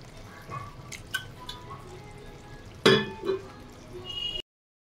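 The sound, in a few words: water being poured into pan of potol curry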